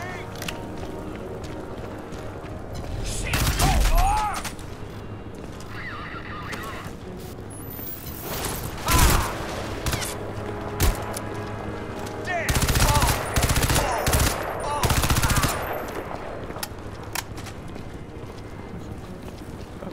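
Gunfire in the video game Crysis 2: loud bursts of rapid shots in clusters amid dense game effects and background noise, with short pauses between volleys.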